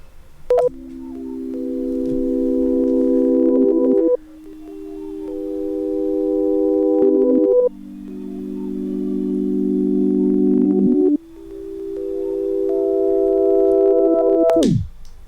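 Four sustained OP-1 synth chords played reversed, each swelling steadily louder before cutting off abruptly, giving a sucked-in texture; no voices.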